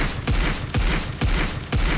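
A gun in Critical Ops is tap-fired in four evenly spaced, punchy single shots about half a second apart. They are loud and close, with no talk.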